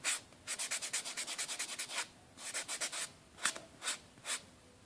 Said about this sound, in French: Et je vais limer le deuxième.